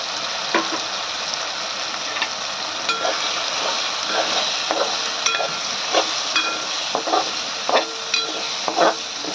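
Turmeric, coriander powder and homemade garam masala sauté in oil for a prawn curry, giving a steady sizzle dotted with scattered scrapes and taps of a stirring spoon.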